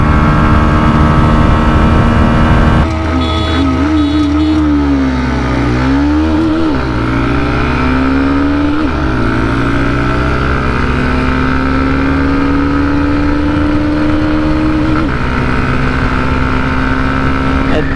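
Two 125cc motorcycles, a Bajaj Pulsar N125 and a Hero Xtreme 125R, drone loudly side by side in a drag race, engines rising and falling through gear shifts in a continuous close roar.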